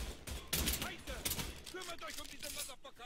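Rapid bursts of gunfire crack out in Mafia 3, several sharp volleys in quick succession over a few seconds, mixed with voices talking.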